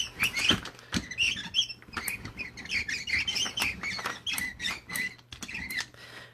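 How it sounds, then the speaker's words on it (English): An old, squeaky rubber brayer rolls back and forth over an inked rubber stamp, giving repeated high squeaks in short bursts, close and fairly loud with no talking. "If you have a brayer, I have an old squeaky one"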